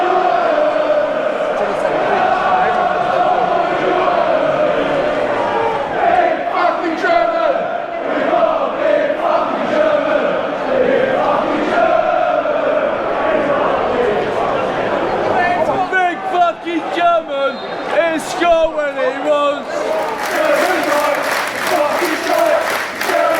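West Ham away supporters chant together at a football match in Brighton, a sustained rhythmic crowd song that stays loud throughout, with a commentator talking over it.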